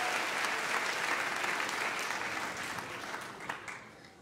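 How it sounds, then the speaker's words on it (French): Audience applause at a French stand-up comedy show, steady dense clapping from a sizeable crowd that holds strong and then gradually thins toward the end. "Qui a essayé ça par applaudissement,"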